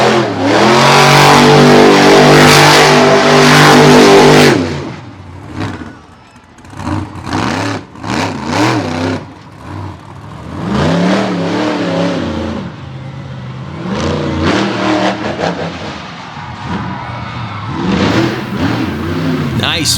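Ford truck spinning a donut in loose soil at an all-star championship event, its engine roaring and revving hard at first, then pulsing up and down in bursts, loud and close, with a commentator talking over it.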